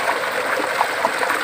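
Water flows into a small channel at an outdoor dig site, making a steady, close trickling and gurgling wash with no voices.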